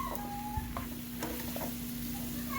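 Mushrooms frying in a pan for a chicken and rice casserole, a soft steady sizzle with light stirring clicks and scrapes, quiet and close, no talking.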